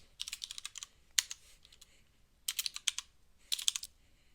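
Someone typing code on a computer keyboard, quick bursts of crisp key clicks in short clusters separated by pauses, close and fairly quiet with no talk.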